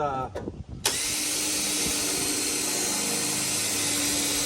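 A power drill with a small bit starts up and runs steadily with a high whine, continuous and close, after a brief burst of speech, drilling the inner rockers of a 1969 Dodge Coronet.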